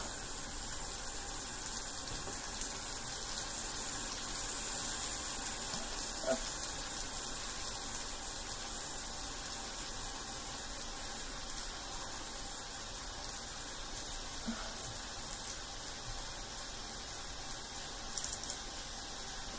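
A bathroom sink tap runs continuously while a face is washed with Dove soap, a steady close hiss of water with faint splashes and occasional small clicks, no talking.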